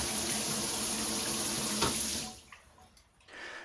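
A shower head sprays water in a steady, loud hiss that runs alone for about two seconds, then cuts off, leaving a few faint drips and trickles.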